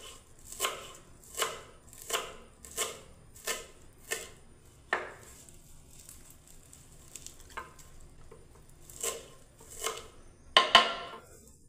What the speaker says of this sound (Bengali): দেখুন এবারে বন্ধুরা আমি ধনে পাতাটাকে আমি কেটে নিচ্ছি